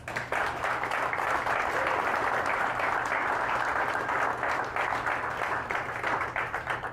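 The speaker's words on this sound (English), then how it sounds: "So I think we all owe him a big round of applause." An audience gives a sustained round of applause for the outgoing mayor after a municipal election, a dense, steady roar of clapping close and loud throughout, with a faint low hum beneath.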